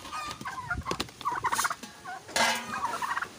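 A turkey gobbles several times in quick bursts, close and loud, with no talking over it.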